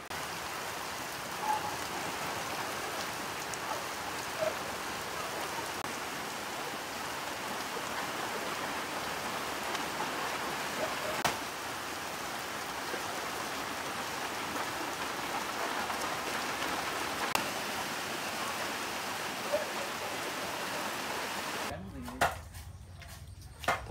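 Steady rain pours down on an outdoor spot where people are picking coconuts, a dense, even hiss throughout with a few faint knocks, before it cuts off abruptly near the end.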